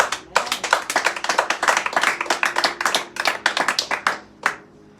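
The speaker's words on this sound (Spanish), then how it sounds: "Dele palmas al Señor." Sharp, close hand claps from a church congregation, struck in a quick, uneven stream for several seconds and then thinning to a last few isolated claps, with no talking.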